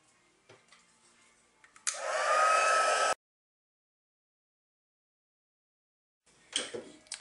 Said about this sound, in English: Now I'm going to heat set.